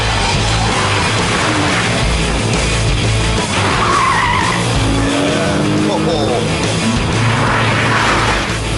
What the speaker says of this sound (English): Chuck it in, back starts to come out, and you can just hold it on the power.